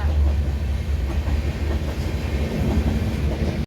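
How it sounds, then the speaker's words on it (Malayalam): A train rolls past a closed railway level crossing, a steady loud rumble of wheels and carriages with faint rhythmic clatter throughout. "പിന്നെ ട്രെയിൻ പോവുക."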